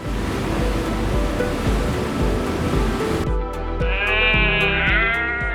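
Sheep bleating aboard a crowded livestock transport ship, with a dense mass of bleats and noisy rumble at first, then a few clearer, nearer, drawn-out bleats standing out alone.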